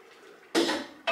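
Rice, partly cooked, stirred in a pot: a faint scrape, then a loud broadband burst of scraping and stirring around half a second, followed by a second short burst at the end.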